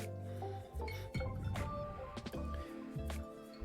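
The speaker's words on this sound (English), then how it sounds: "We're gonna rinse off our brush" A watercolor paintbrush is swished and tapped in a jar of rinse water, giving soft liquid sloshes, drips and a few light glassy clinks, close and moderately quiet, with no talking.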